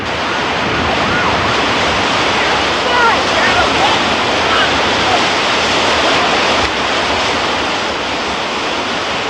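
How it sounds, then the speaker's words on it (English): Rapids in a flooded arroyo roar loudly and steadily with rushing water, a dense, unbroken wash of sound that stays close the whole time. "Then Ken hit the rapids."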